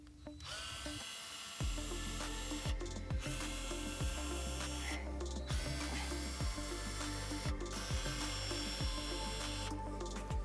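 Power tool backing screws out of the dash radio mount of a Jeep JL Wrangler, heard as repeated short whirring bursts with ratcheting clicks over a steady hum, close and fairly loud.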